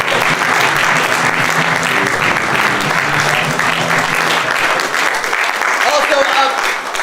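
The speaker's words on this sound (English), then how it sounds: "Please put your hands together for the rest of the cast as they come." Loud, sustained audience applause at an improv comedy show as the cast comes on stage, a dense continuous roar of clapping with a voice faintly under it.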